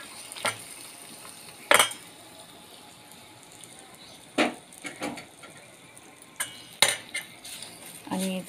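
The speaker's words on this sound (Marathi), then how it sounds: "आता फोडणी तयार झालेली आहे आणि आता या भातावरती मी घालून घेते." Hot tempering poured over curd rice and stirred in, heard as scattered sharp clinks and scrapes of a spoon against the dish with a faint sizzle beneath, close and fairly quiet, no talking.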